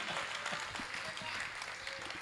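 Audience applause at a Hindi poetry recital (kavi sammelan) in Bhiwani, Haryana, a dense, sustained patter of many hands clapping in a hall, with a voice talking over it.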